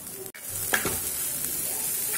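Cluster bean stir-fry sizzles in a pan as it is stirred, with a short scrape of the spoon over a soft, steady frying hiss.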